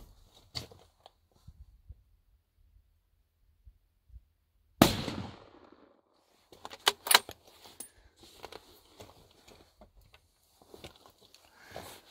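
A single gunshot fired outdoors on a mountain, one sharp loud crack that decays into the open air, followed by scattered handling clatter and faint movement noises.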